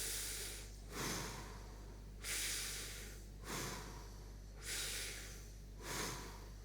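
Slow, deliberate breaths in and out during a standing neck stretch, five or six airy breath sounds in a steady rhythm about every second and a half, close to the microphone over a low hum.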